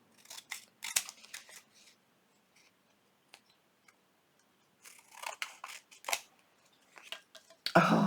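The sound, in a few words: scissors trimming paper for a junk journal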